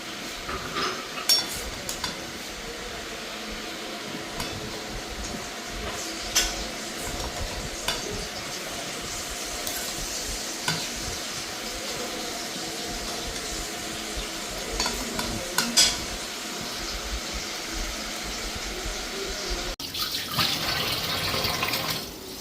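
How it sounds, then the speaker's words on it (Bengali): Shukto vegetable curry poured from a pan and stirred, giving a steady close wet sizzle with scraping spoon strokes, a brief louder burst of splashing near the end. "ওইদিকে শুক্তা রেডি শুক্তাটা ঢেলে নিই"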